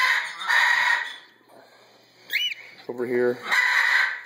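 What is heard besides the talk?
cockatiel calling in a brooder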